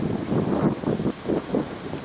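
Wind gusting outdoors on a cold night with a full moon, rushing in soft surging waves against the microphone, steady and fairly close with no voices.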